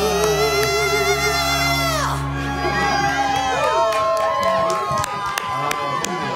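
A studio audience at a live K-pop radio show cheers, whoops and shouts as a sustained, lively crowd roar. Music is heard fading out at the start, with voices mixed in throughout.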